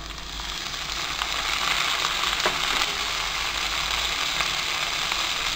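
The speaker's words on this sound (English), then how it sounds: "Now add chopped tomato." Chopped tomato hitting onions and green chili frying in a pan for channa masala, giving a steady, close sizzle with faint stirring and scraping throughout.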